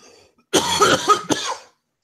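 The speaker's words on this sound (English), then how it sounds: "I still have this cough." A single close, harsh cough burst followed by a short second cough, in an otherwise quiet setting.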